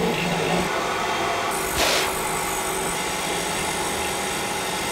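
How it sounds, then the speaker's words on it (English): A surface grinder runs while its grinding stone is dressed with a diamond, giving a steady close mechanical whine and hiss that swells briefly near the middle. "We're treating a stone with a diamond."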